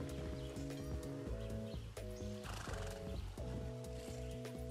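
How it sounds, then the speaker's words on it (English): A video game horse in Far Cry whinnies and its hooves clatter against a dense, loud game soundtrack of layered music, the animal sounds mixed into the busy background throughout. "That's a good horse"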